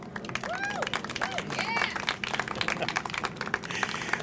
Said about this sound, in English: I would like to have you give a little round of applause, a warm welcome for